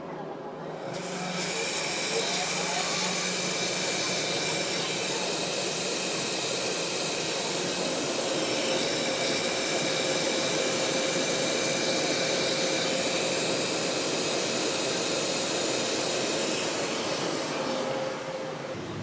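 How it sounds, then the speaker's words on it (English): A grinder in an orthotics workshop refurbishing a worn pair of orthotics, a steady loud hissing whirr that runs continuously and alone before winding down at the end. "I'm gonna take you over to the grinder"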